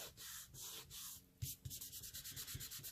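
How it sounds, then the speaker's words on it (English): A finger firmly burnishes paper down onto an artist trading card, giving a close, dry rubbing sound in quick repeated strokes that settle into an even rhythm. "Really, really burnish this down with my finger."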